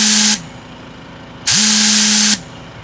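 KJM compressed-air tool blasting in two loud hissing bursts, the second lasting about a second, with a steady tonal whine under each burst and a quiet gap between them.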